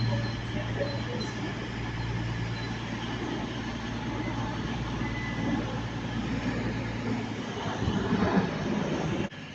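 Avanti West Coast train pulling into Stockport station, a steady low rumble and broadband roar of the arriving train filling the whole stretch, with a low mains-like hum underneath and a brief rise near the end.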